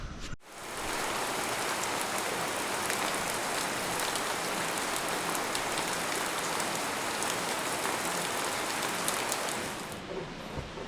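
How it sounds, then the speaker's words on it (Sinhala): Heavy rain pours down outside a hill-country bungalow in Sri Lanka, a dense, steady roar of drops drumming on surfaces, loud and continuous, briefly quieter at the start. "ෆ්‍රෙන්ඩ්ස් බලන්නකො හොඳටම වහිනවා."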